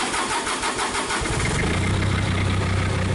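A Cummins engine fitted into a Komatsu PC40 excavator fires up, cranking briefly then catching into a steady, loud, close idle that runs on without talk.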